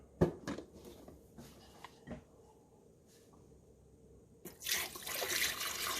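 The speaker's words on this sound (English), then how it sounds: "I'm just going to put water in." Water poured into the reservoir of a Mr Coffee 12-cup coffee maker (BVMC-TP) with an LED touch display; a few light clicks and handling taps come first, then a steady, fairly close splashing pour fills the last second and a half.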